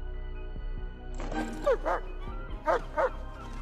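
A young sled dog in the film Eight Below barks at a flock of birds, letting out a few sharp yips in two pairs over a quiet background hum.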